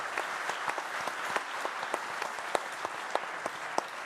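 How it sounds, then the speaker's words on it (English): A crowd at an evening event for an independent Russian newspaper applauds steadily, close and even, with individual sharp claps standing out over the continuous patter. "some applause for Twan"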